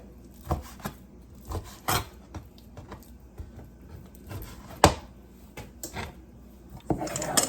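Raw chicken trimmed with a knife on a board while cooking a creamy chicken pasta: scattered soft knife taps and scrapes, a few sharper thunks, close and fairly quiet, with no talking.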